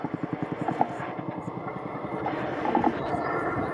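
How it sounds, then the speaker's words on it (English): A Chinook twin-rotor helicopter on a role demo at the RAF Cosford Air Show, its rapid rotor thump pulsing under a broad engine roar that swells louder toward the end, with an announcer talking over it. "the mighty Chinook continues to get the job done"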